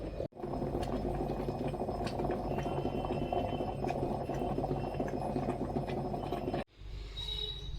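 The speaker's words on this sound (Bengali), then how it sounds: "এই যে ম্যাগি নিয়ে নিয়েছি, ফুটবে আর বন্ধ করব" Water for Maggi noodles boils in a pot, a loud, continuous bubbling rumble that runs steadily, cuts out briefly twice and resumes more faintly at the end.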